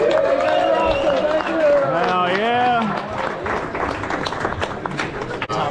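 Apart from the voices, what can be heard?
banquet audience applause and cheering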